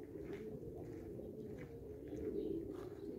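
Pigeons cooing inside a pigeon loft, low soft murmuring coos layered over a steady background hum, faint and continuous with no talking.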